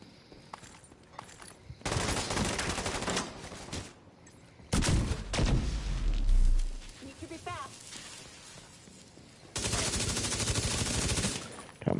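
Gunfire in The Division 2 comes in several loud bursts of rapid automatic shots with heavy booming impacts between quieter gaps, close and harsh.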